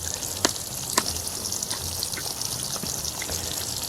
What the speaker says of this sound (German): Da kommt Wasser